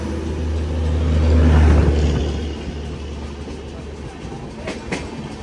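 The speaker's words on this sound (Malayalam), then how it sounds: "ഇവിടെ ഒരു വണ്ടിയുണ്ട്, ബറോണിയിൽ നിന്ന് അഹമ്മദാബാദിലേക്ക് പോകുന്ന ട്രെയിൻ," The Barauni–Ahmedabad Express, an ordinary express train, rumbles past nearby with a heavy low drone that swells and then fades, followed by lighter clattering of the cars on the rails.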